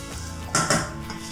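Peanuts and spices stirred in a pan on a gas stove, with one short metallic clatter and scrape of a utensil against the pan, close and fairly loud over a low background hum.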